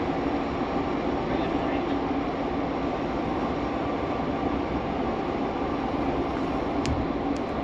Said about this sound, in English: This train is bound for Terminal 3 and Terminal 4.